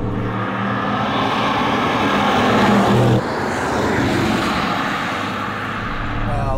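A 2020 Audi RS6 Avant accelerates hard, its engine roaring loud and close with rising tones, a sharp break at a gear change, then climbing again.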